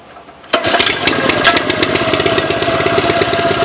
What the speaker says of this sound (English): pull start it. It has the 4 horsepower Subaru motor.